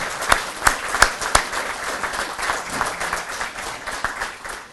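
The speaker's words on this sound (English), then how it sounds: "I'd like to give them a round of applause for the great work they've done with our kids" A round of applause from the audience at a junior deputy awards breakfast, steady crowd clapping with a few sharp nearby claps standing out early, continuing evenly to the end.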